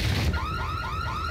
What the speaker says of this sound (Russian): Просто сигнализация сработала.